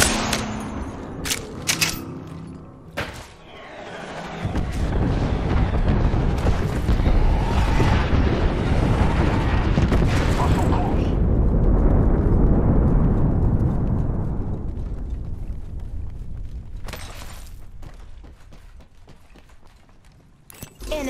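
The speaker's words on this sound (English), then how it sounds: "Signaling an airstrike." Airstrike explosions in Apex Legends roll in as a long, loud rumbling barrage mixed with gunfire, swelling and slowly fading, with sharp shots before and after.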